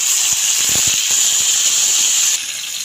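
Tomatoes hit a hot pan and sizzle in a loud, bright, steady hiss with small crackles, easing slightly toward the end.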